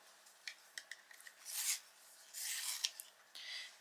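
A juniper green coloured pencil is sharpened in short, faint scraping bursts. Quiet rasping strokes come and go close by, with no talking.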